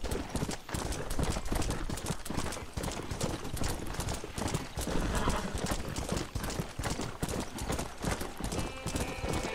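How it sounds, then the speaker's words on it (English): Horse galloping at full speed in the Red Dead Redemption video game: rapid, driving hoofbeats pound continuously and close up, with occasional snorting or whinnying over the dense rhythm. "This is just standard gallop speed for this horse."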